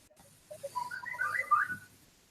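Whistling in a classroom during a math review, a short run of wavering melodic notes, moderately close, mostly alone with a faint room murmur beneath.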